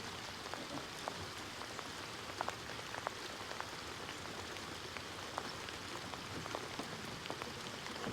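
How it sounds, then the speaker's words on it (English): Hard rain falls steadily on a lakeside fishing dock, a dense, even hiss with scattered sharper drop impacts throughout, fairly quiet and with no voices. "It rained it got to raining pretty hard."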